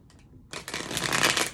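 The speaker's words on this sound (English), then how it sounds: "I got one more deck to shuffle." A deck of playing cards is riffle-shuffled close by: a couple of soft flicks, then a crisp rapid fluttering riffle that builds in loudness over about a second, with no talking.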